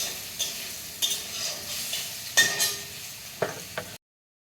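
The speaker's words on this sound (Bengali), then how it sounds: "তো দেখো আলুগুলিও ভাজা হয়ে গেছে" Potatoes frying in a wok for a home-style vegetarian Bengali dish, a steady close sizzle with several sharp stirring scrapes and clinks at irregular intervals, with no talking.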